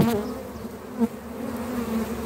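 Honeybees buzz in a steady, close drone at a hive, the hum swelling briefly as individual insects pass nearby.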